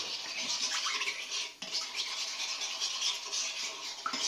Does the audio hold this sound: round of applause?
no